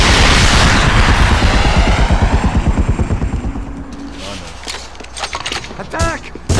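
Helicopter and gunfire in The Punisher video game: loud rapid thudding rotor or gun bursts that fade into rumbling, with a few sharp blasts near the end.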